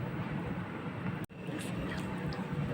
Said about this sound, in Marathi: आता आपण मिक्सरला लावून घेऊया.